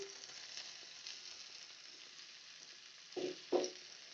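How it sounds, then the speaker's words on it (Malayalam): Grated coconut fries softly in a pan for Kerala sambar, a faint steady sizzle with two brief louder bursts near the end as it is stirred. "ഇനി നമ്മൾ എടുത്തു വെച്ചിട്ടുള്ള തേങ്ങ അതിലേക്ക് നമുക്ക് ഇപ്പോൾ ചേർത്ത് കൊടുക്കാം."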